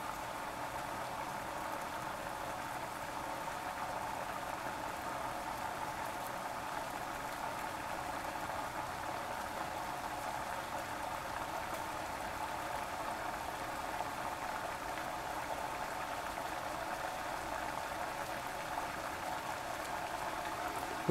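Liquid nitrogen boils steadily in a CPU overclocking pot during an AMD LN2 overclocking session, a continuous soft bubbling fizz that holds even and fairly quiet throughout, with no talk over it.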